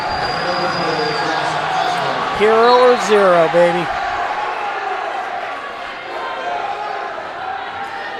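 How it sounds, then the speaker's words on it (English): Crowd roaring at a Westfield vs Noblesville high school varsity wrestling match, a steady wash of cheering from a packed gym with one voice shouting over it partway through. "Listen to the crowd go crazy."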